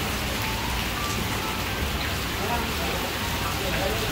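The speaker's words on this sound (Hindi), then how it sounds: "बारिश देखो, बारिश का मजा लो।" Steady, dense rain pours down throughout, a continuous broadband hiss of drops hitting surfaces, close and fairly loud with no pauses.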